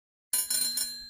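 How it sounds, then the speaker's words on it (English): A bicycle bell rings out abruptly after a moment of silence, a bright metallic trill with sustained ringing tones, close and clear with no other sounds. "Bicycle."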